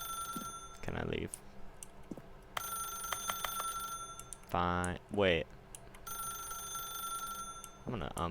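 A telephone rings in the video game The Stanley Parable, sounding as several bursts of electronic ringing over a faint background hum, while someone talks briefly in between.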